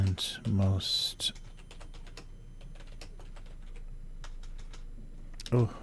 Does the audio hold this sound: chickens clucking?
no